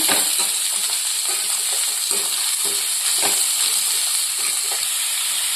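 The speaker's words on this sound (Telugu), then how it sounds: "క్యారెట్ ఫ్రై అవుతుంది కదండి" Chopped carrots frying in a hot pan, a steady, loud sizzle and hiss close up, broken by a few soft stirring scrapes.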